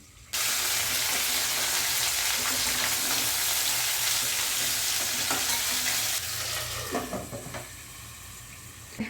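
Bitter gourd sizzles steadily in a hot pan with onion, tomato and coarsely ground garlic, a spatula stirring through it at intervals; the frying hiss stays loud and continuous, then quiets and turns more uneven near the end.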